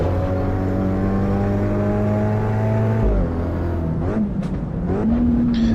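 A race car's engine in the sim racing game Assetto Corsa Evo, heard from outside the car: a loud, steady engine drone that drops in pitch partway through, then wavers and climbs again as it revs.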